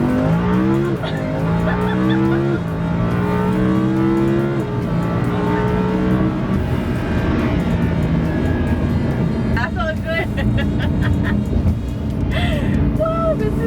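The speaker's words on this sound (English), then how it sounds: "Let's try to do a pull here. Let's do 120 on first and see how it feels." Hard first-gear acceleration from a 2015 Lamborghini Huracan LP 610-4, its engine note climbing steeply and loud, then shifting and climbing again, with someone talking over the roar inside the car.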